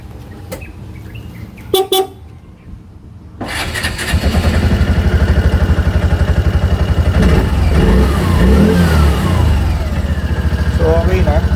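A Piaggio Ape 200cc three-wheeler engine is cranked and catches after a few seconds of handling noises, then settles into a loud, steady, close putter that rises slightly as it revs.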